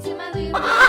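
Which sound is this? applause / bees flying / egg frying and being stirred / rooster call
rooster call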